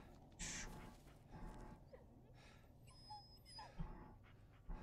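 A dog whimpering in the Blair Witch horror video game, faint soft whines over a dark, rustling outdoor ambience, with a few short bird-like calls and low thuds.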